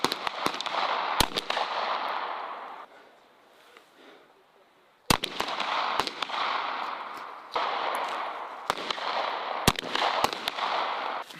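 Gunfire from a tank crew shooting at targets during a competition, heard as loud, sharp reports in irregular bursts over a continuous rumble, with a short lull midway.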